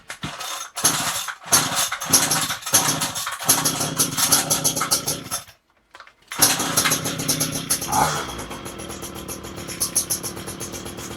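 A small engine on choke sputters through several short cranking attempts with brief gaps, then catches and runs steadily, loud and close, settling into a rougher idle.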